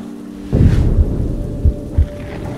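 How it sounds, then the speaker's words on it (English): Heavy rain pours down steadily while deep thunder rumbles roll in, followed by a couple of shorter low booms nearby. "In the heavy rain, Alan drove back to the church,"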